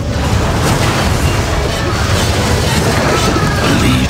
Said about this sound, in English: The Legion have destroyed a hellborn belfry.